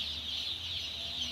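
Chicks cheep steadily in a high, continuous chorus on a poultry farm, with a low hum underneath and no talking.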